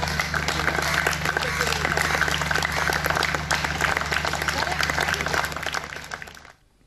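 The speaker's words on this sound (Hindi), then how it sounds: "किस तरीके से लोग खुशी मना रहे थे, ताली बजा रहे थे उस कोरोना फाइटर के लिए" A crowd in Pune claps and applauds steadily for a coronavirus patient returning home after recovery, with dense, sustained clapping mixed with voices before it fades out at the end.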